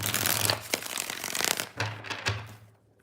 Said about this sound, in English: 2 more shuffles, 2 more.